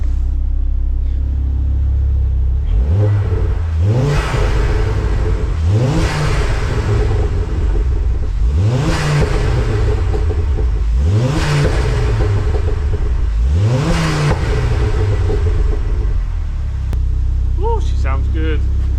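Ford Focus MK2 ST engine, freshly fitted with an Airtec oil breather kit and warmed up, blipped five times from idle, each rev rising sharply and falling back, loud and close, with a short voice near the end.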